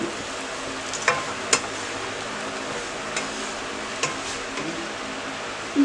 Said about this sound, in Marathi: ब्रेड स्लायसेस थोडे रोस्ट करून घेऊया